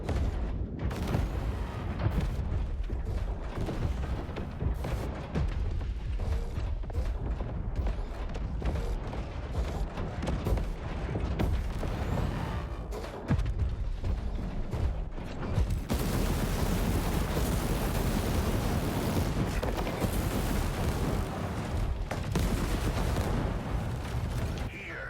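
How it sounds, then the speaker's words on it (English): A steady barrage of incoming missiles explodes in a video game, rumbling booms and blasts piling up continuously and swelling louder near the end, with faint talk underneath. "Incoming missiles."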